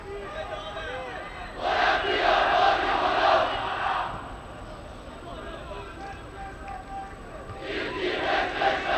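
Football supporters chant in a stadium during a Damash Gilan versus Darya Babol league match, two loud rhythmic crowd swells rising and falling under a commentator's voice.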